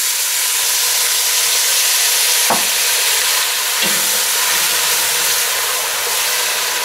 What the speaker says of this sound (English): We'll just throw a little bit of the beer in to help deglaze the pan a little bit.